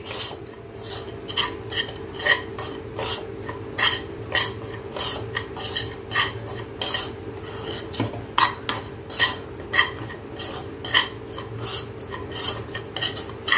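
Spoon stirring salt into a masala for stuffed green chillies in a metal pan, a regular rhythm of close scraping strokes roughly twice a second over a low steady hum, with no talk.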